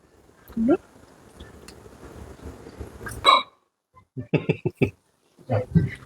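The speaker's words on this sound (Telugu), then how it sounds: "చికెన్ తిని మరి బ్రెడ్ తినే కుక్కని నిన్నేరా చూసింది" A dog gives a few short barks and yips in a home kitchen where donuts are being made, the sounds coming in scattered bursts, with quiet stretches between them.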